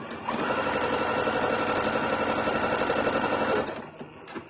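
A sewing machine runs steadily, stitching the seams of small fabric bath tea sachets with decorative stitching and French seams; a continuous, fairly loud mechanical whir lasts several seconds, then stops abruptly, leaving quiet room tone.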